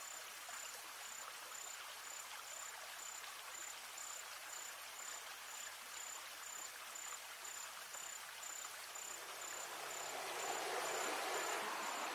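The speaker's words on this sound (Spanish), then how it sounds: "Estamos en el río" Continuous broadband rush of the Barití-Mopá river flowing, steady throughout and swelling slightly louder near the end, with a thin high insect-like tone pulsing above the water noise.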